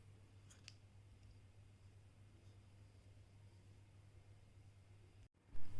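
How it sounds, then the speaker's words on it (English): Scissors snipping crochet yarn during a Christmas coaster project: two quick, faint close clicks early on against a quiet room hum, followed later by a brief louder handling bump. "now you chain 1 and cut your yarn"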